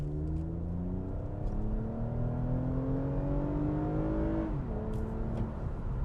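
A 2021 Toyota Camry TRD accelerates hard from inside the cabin, its engine note climbing steadily through the revs, with a brief dip at a gear change before it rises again, loud and continuous.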